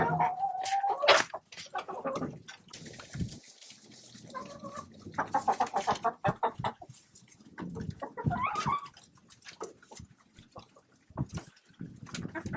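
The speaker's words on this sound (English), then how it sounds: "So I think I got a rooster in the hen house." A rooster crows over scattered hen clucks and chicken chatter, with bursts of barnyard noise and a dog-like sound mixed in, fairly close.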